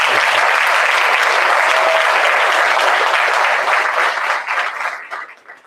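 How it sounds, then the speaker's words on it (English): Dense, loud applause from an audience at a California Green Ribbon Schools recognition ceremony holds steady, then thins and fades over the last second or so. "Let's give them a round of applause"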